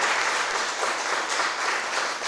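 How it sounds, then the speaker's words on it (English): Steady applause from a poetry open mic audience, a dense even patter of many hands clapping without a break. "Let's give them a round of applause."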